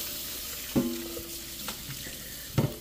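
A dish is rinsed under a running kitchen tap after cleaning with Dawn Ultra Platinum Powerwash dish spray: a soft water hiss broken by a few sharp clinks and splashes.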